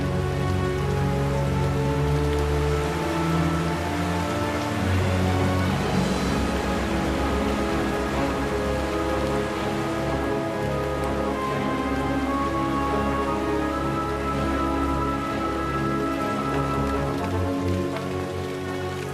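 Steady rain pours down over a Danube floodplain forest, a dense hiss of drops on surfaces, loud and continuous with no voices.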